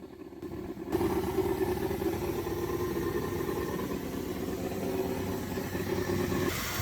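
A Diplomat car that sat for 18 years idles with a steady, even engine rumble after a brief quieter start, close and continuous with no talking.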